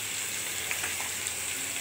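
Bitter gourd slices frying with salt in a pan, a steady close hiss of sizzling oil throughout with faint crackles and pops, no voices.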